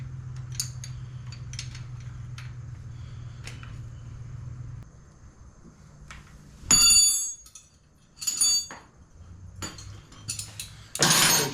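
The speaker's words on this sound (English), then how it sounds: "I'm going to break the adjustment loose on the clutch cable right now" Metallic clicks, scrapes and brief ratcheting bursts come from loosening a clutch cable adjuster on a dropped motorcycle, with a low hum fading partway through and quiet pauses between the close tool sounds.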